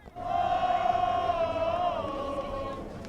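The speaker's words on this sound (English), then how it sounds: "Nice crowd here today" A crowd at a College of San Mateo versus Santa Rosa Junior College football game makes a steady, dense roar of many voices. One sustained shouted tone rides on top, then eases off toward the end.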